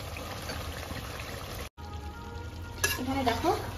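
Chicken with yogurt and fried potatoes stirred in a pan, loud steady sizzle with scraping stirs and a brief cut in the middle.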